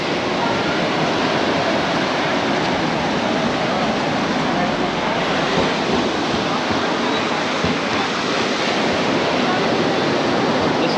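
Sea waves wash continuously against a rocky shore at Anjuna beach in Goa, a broad, steady roar of surf heard close and loud without a break.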